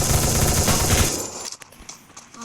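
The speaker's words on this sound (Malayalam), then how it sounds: "വെടി വെക്കുന്നു." Video game gunfire rattles in a loud, dense automatic burst for over a second, then thins into a few scattered distant shots and faint clicks.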